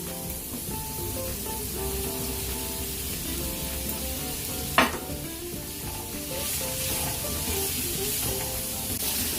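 Long bean pieces tipped into a pan of softened frying onions and stirred, giving a steady sizzle and hiss throughout, with one sharp clatter midway.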